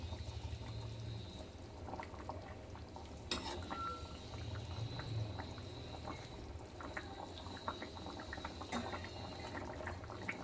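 A thin tilapia fish curry (jhol) simmers in a pot on a gas stove, giving a faint, steady bubbling with occasional soft clinks.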